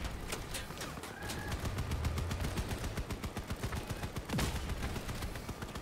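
Gunfire in a multiplayer shooter game, rapid bursts of automatic shots fired in quick rhythmic succession, fairly loud and continuous with a few sharper cracks, no talk.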